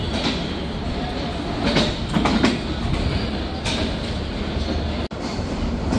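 The Jahanabad Express on its inaugural run from Khulna to Dhaka rumbles steadily from inside the coach, wheels clattering over rail joints in a dense, continuous roar with faint clicks and no voices.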